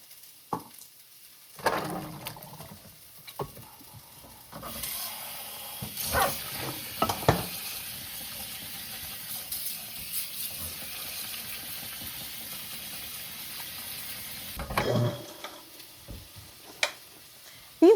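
Canned red beans rinsed and drained under running tap water, a steady close rush of water with brief sloshing splashes and clinks at the start and near the end.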